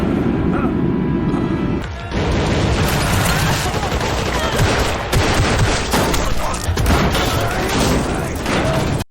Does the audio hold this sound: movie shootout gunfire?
yes